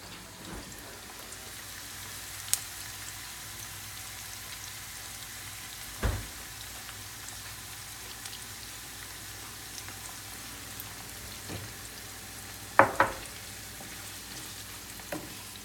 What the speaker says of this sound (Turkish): Şimdi biraz kavurmaya devam ediyorum.